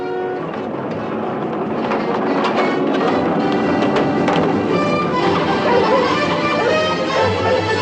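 A steam locomotive runs along the railroad with a dense, steady rumble and chugging close by, continuous and fairly loud, with no talking.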